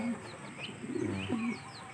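Racing pigeons at a home loft coo softly in low, repeated rolling calls, with faint chirps overhead in the background.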